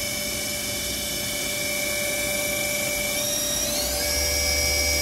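Milltronics RW 20 machine running at 3000 RPM, a steady whirring hum with high whining tones that shift upward near the end, close and unbroken, no talk.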